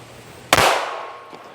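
A single sharp, loud gunshot from a switchblade gun's revolver at close range, with a quick bang and short decaying echo.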